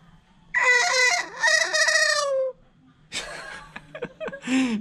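A talking bird, heard amid Bali rice terraces, gives two long strained warbling calls, then a burst of scratchy chattering mimicry and a final shrill note, loud and close with no speech.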